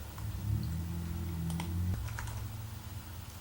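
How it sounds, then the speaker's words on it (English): Rapid clicking keystrokes on a computer keyboard as an email address is typed in for a Wix sign-up, a quick close run of taps over a low background hum. "So here I'm going to type in my email,"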